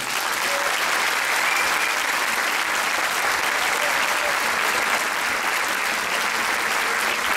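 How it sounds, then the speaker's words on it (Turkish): Sustained, loud crowd applause at a Circassian association event for a young dance ensemble and its crew, an unbroken, even roar of many clapping hands. "Hem Nesren'e hem bütün ekipçilere hem bu genç arkadaşlarımıza büyük bir alkış rica ediyorum."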